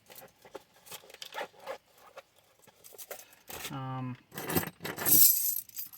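Furniture keys from a locksmith's lockout kit jangle and clink in short bursts, near and fairly quiet, with a voice speaking briefly in the middle.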